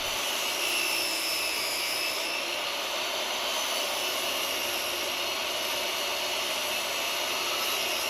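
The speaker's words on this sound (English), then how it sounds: "I'm going to run it through my sander, sand it down a little bit" A power sander works steadily on a cedar fence plank, a continuous loud broadband whir that holds level for the whole stretch with no breaks and no talking.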